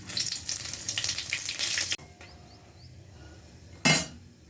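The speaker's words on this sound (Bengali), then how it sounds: "তেলে দুটো শুকনো লঙ্কা, সাদা জিরে আর গোটা গরম মশলা ফোড়ন দিয়ে দেবো।" Dried red chillies, cumin seeds and whole garam masala hitting hot oil in a kadai, a loud crackling sizzle for two seconds, then a quieter hiss with light utensil clinks and a brief sharp burst of spitting near the end.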